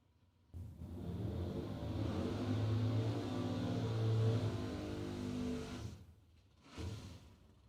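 A 1970 Pontiac Bonneville drag car's big engine revs hard and loud for several seconds, a sustained roar with rising intensity, then drops away before a short second burst of revving.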